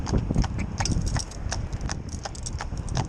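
Heavy horse's hooves clip-clop on a hard surface in a steady walking rhythm, close and clear.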